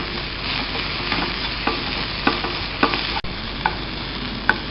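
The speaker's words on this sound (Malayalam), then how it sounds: "അതിലേക്ക് 1/2 ടീസ്പൂൺ മുളക് പൊടി, 1/2 ടീസ്പൂൺ മഞ്ഞൾപ്പൊടിയും കൂടി ചേർത്ത്" Chilli powder and turmeric being stirred into an onion mixture frying in a pan for masala egg scramble, with a steady sizzle and repeated spoon scrapes at irregular intervals, close and alone.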